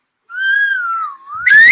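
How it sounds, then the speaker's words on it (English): A single person whistles loudly and alone, a sustained rising and falling tone that swoops upward at the end with a brighter burst. "Hey, I know to whistle. I know how to whistle."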